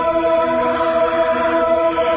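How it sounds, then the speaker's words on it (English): Synthesized strings layered into a music track, a sustained smooth chord held steadily and loudly for a couple of seconds with no voices. "And then this one I added is strings that sound like"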